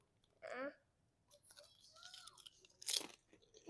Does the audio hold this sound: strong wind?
no